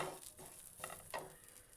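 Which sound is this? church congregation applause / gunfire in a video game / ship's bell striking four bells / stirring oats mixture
stirring oats mixture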